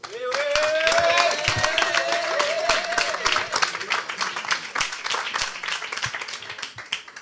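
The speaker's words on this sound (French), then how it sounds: "Marwa, on l'applaudit s'il vous plaît" A conference audience applauds a young woman called to the front to speak, dense crowd clapping at steady loudness with excited voices and a whooping call rising over it in the first half.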